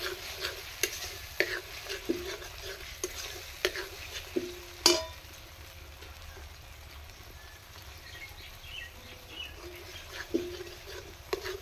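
Ground ginger, garlic and chili paste goes into hot oil in a pan, a soft ongoing sizzle punctuated by sharp clicks and scrapes of a spoon stirring.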